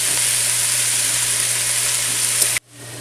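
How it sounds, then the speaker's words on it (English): Green peppers, tomatoes and garlic sautéing in a pan, a loud steady sizzle running for over two seconds before cutting off abruptly, with a low hum underneath and no talking. "You're then going to put in your tomatoes and garlic and saute those for a few minutes."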